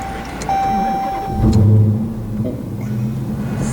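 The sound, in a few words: 2016 Dodge Challenger Hellcat engine starting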